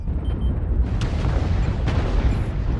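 Class 2 autocannon fire in MechWarrior Online, a steady rumbling barrage of booming shots with a couple of sharper cracks standing out, loud and close with no talk.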